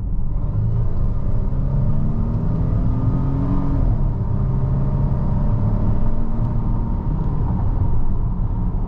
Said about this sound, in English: as soon as I first stepped on it, you could hear that supercharger kind of wind up